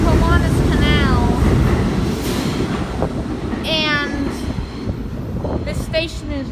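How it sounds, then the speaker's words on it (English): New York subway G train at the elevated Smith-9th Streets station, rumbling loudly with rail noise and squealing wheel or brake tones rising and falling throughout. "Seeing a lot of G train."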